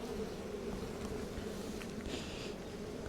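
Honeybees hum in a steady, dense drone from inside an opened hive during inspection of the brood frames, a continuous close buzz with a few individual bees flying near.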